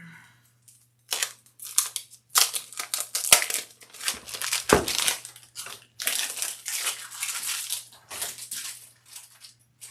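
Fabric pieces being cut out for a sling bag, with steady crunching, crinkling scissor snips and paper pattern rustles in close bursts throughout, one sharper thump midway, no talk.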